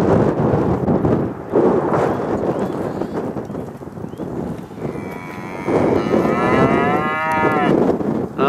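Young dairy cattle at Mawellbank Farm near Lochmaben moo over a busy background of shuffling livestock. Several long, loud, close calls rise out of the noise, the clearest coming near the end.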